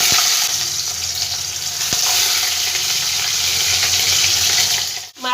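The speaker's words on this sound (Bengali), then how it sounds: "এবার এর মধ্যে আমি মাছগুলো সব একে একে দিয়ে ভেজে নেব।" Rohu fish pieces frying in hot white oil in a pan, a steady loud hiss and sizzle running throughout with faint crackles and a brief break near the end.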